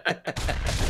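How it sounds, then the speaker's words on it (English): Cannon fire in the Castle Crashers video game comes as a sudden, loud burst of noisy blasts and rumble after two short vocal sounds at the start. "Why would you launch cannons on it at it while we're on, like, in it?"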